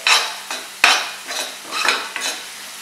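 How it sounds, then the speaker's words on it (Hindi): Onion sautéing in a pan for a Chinese-style corn appetizer, a close sizzle with repeated rhythmic spatula strokes, one sharp clack of metal on the pan, no talk. "ऑनियन को भी थोड़ा सा सौते करेंगे."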